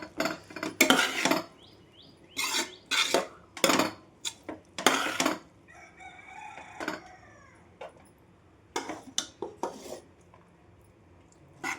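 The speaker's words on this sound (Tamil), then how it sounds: "தக்காளி சாதம் பாருங்க இப்படி கிளறாங்கண்ணே." A spoon scrapes and clanks against a metal pot while tomato rice is stirred, in repeated bursts of sharp metallic clatter with short pauses between, close and fairly loud, with no talking.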